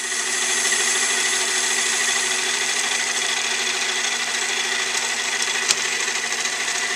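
A machine cutting to clean up a shoulder on a spindle column, running as a steady loud whining drone with a faint tonal hum and one brief sharp tick near the end.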